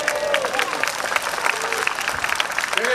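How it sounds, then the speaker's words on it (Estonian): Audience applause at the Tartu city day gala concert, a dense, steady wash of clapping from a large crowd, with a voice carrying over the top at the start and end. "Aplaus!"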